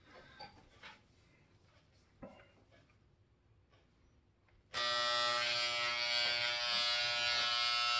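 An electric razor kicks on loudly and buzzes steadily for several seconds as it shaves off a man's moustache, close by, following a quieter stretch of faint rustling.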